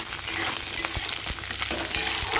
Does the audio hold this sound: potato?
yes